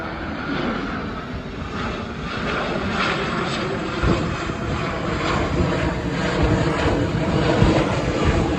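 A McDonnell Douglas MD-80 jet airliner passes near an airport, its engines making a loud, steady roar that builds gradually and holds through the passage, with no voices.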